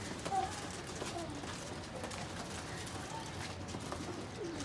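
Pigeons at a Lahore pigeon seller's coo softly amid a steady, noisy background, with one brief call standing out near the start.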